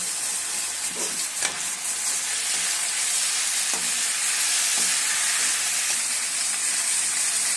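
Chopped tomatoes fry in a pan for a chicken kuzhambu, with a bright continuous sizzle and hiss. Occasional scraping stirs of a spoon sound clearly close up, and no one speaks.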